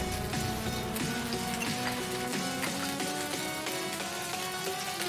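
Kadai paneer frying in a kadai gives off a steady, dense sizzle and crackle that carries on throughout, close and fairly loud, with occasional clinks of utensils over it.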